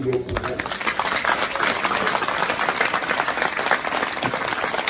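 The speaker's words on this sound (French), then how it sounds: "Et nous demandons toute assistance pour applaudir." Audience at a university graduation ceremony in northern Haiti applauds steadily, a dense, loud, continuous clapping that fills the hall, with a voice speaking over it.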